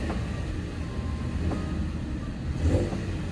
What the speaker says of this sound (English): I should just rev the engine, let you guys see how that sounds